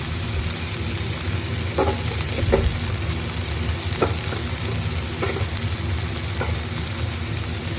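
Chopped tomatoes going into a frying onion tomato curry, a steady loud sizzle with occasional soft clinks of a stirring spoon against the pan, close up.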